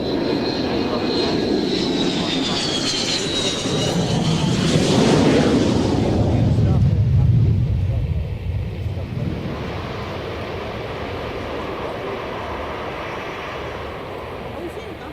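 Fixed-wing aircraft landing carrier-style at an aviation show, a loud roaring engine and rushing wind that swells then drops away, with the roar fading into a steady low rumble and talk over it.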